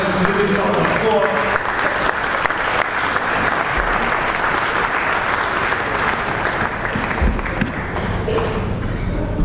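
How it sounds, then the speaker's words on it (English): A crowd applauds steadily at a Chabad of Rechavia tenth-anniversary celebration, with dense clapping sustained from start to finish at close range. "give yourself an applause"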